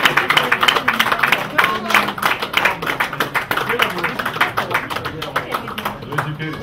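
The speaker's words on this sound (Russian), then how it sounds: "под ваши бурные аплодисменты" Clapping at an award ceremony for the Solnechny Krug prize: a steady run of claps from the audience through the whole stretch, moderately loud, with a background voice underneath.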